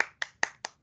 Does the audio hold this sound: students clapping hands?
yes